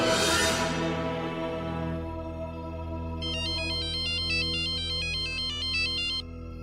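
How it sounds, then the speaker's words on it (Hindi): A phone ringtone chimes in a rapid, repeating electronic pattern for a few seconds, rising over a soft sustained background score in a drama scene. "वो एक्चुअली हसीना बी का फिर से फोन आया था।"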